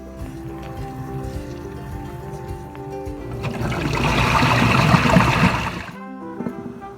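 About 26 pounds of grapes being rinsed for kombucha wine, water running and splashing steadily close by, swelling louder midway before cutting off, with faint background tones throughout.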